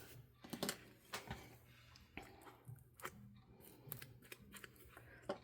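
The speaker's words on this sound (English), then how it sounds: "So I'm going to use my little scissors here." Quiet, close-up snipping of small scissors through paper, irregular short cuts with rustling between them.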